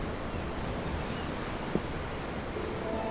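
Ocean waves in the Tales of Arise video game make a steady, soft surf wash with a low rumble and airy hiss, continuous and unbroken, with no talking.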